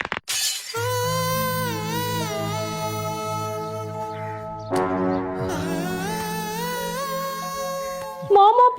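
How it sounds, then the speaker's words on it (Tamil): A comic sound effect marks a tooth breaking on rock-hard homemade cake: a loud, sustained warbling tone that shifts abruptly midway and ends with a short sharp burst, with no speech. "மாமா பல்லு உடைஞ்சிருச்சு"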